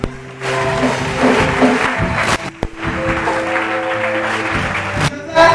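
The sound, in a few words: congregation applauding in church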